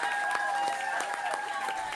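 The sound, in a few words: applause greeting new MP arriving at Westminster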